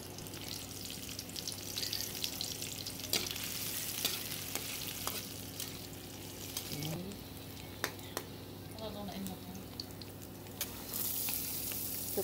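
Onion fries in a pan with a steady low sizzle, broken by occasional sharp clicks of stirring against the pan and faint background sounds.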